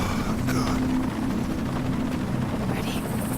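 A helicopter hovers in Shadow of the Tomb Raider, its rotor chop and turbine whine forming a steady, moderately loud wash with brief voices over it.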